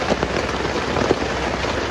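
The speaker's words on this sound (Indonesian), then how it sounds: "ya gini kondisi hujan cukup lebat." Heavy rain drums steadily on the small awning of a Daihatsu Sigra campervan at a campsite, a dense, loud, continuous patter with scattered sharper drops and no break.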